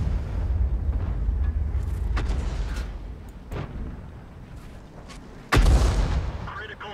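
The FV304 self-propelled artillery in the World of Tanks video game fires heavy booming shots, several deep blasts and cracks across the stretch, including one sharp loud report near the end.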